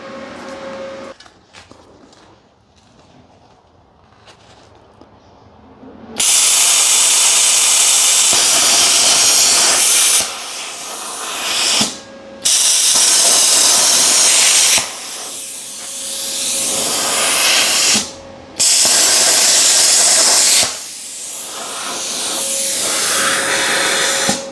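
A Harbor Freight plasma cutter slices metal brackets off, starting after a quiet stretch as a loud, steady hissing roar that runs in long bursts broken by a few short pauses.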